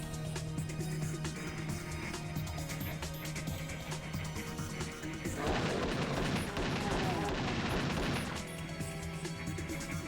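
A chaingunner enemy firing in a custom DOOM level running on GZDoom, a dense burst of rapid gunfire lasting a few seconds over steady game music and ambience.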